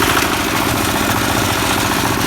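A Forte 8 hp walk-behind tractor drives along a road hauling a heavy load of firewood, its engine giving a steady, loud, continuous chugging drone throughout.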